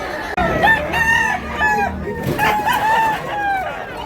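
Roosters at a chicken sellers' market in Tabunok, Cebu, crow again and again, loud and close, their drawn-out calls overlapping over a bed of clucking and market murmur.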